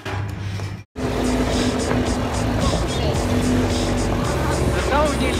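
Jeep Wrangler Caribbean engine droning steadily on a mountain road on Samui, loud and close throughout after a brief cut near the start, with faint voices underneath.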